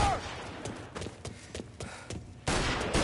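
Gunfire in the video game Mafia: scattered shots and short bursts in a firefight, several sharp reports through the middle and a louder blast near the end.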